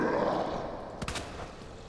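Two or three quick handgun shots ring out in the Resident Evil 2 Remake video game, a short burst after a low ambient rumble, with no talking.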